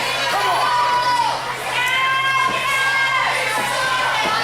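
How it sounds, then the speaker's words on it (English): Wrestling fans at a live tag team match yell and cheer continuously, a dense, loud crowd with shrill individual shouts rising above it. "And now the fans, you can hear them yelling for the Youngbloods to recover here."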